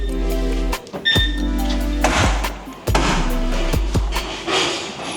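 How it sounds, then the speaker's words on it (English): A car door closing with solid thunks on a Ferrari 550 Maranello, several impacts spread across the clip over a steady low hum, heard up close with no talking. "The door sound."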